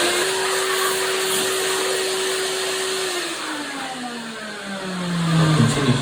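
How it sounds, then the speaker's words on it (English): A vacuum cleaner removes loosened foam from an Aston Martin DB7 roof lining board, a steady loud motor whine that holds level, then drops in pitch and roughens as the nozzle works across the board. "When I've done that, the vacuum cleaner,"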